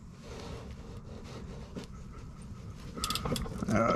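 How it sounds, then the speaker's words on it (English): A wrench snugging the oil drain plug on a 2008 Toyota Sienna with a 2GR-FE 3.5 V6, close metallic ratcheting and clicking over a low rumbling background, growing louder toward the end. "now I'm going to just give this a little nudge with the wrench"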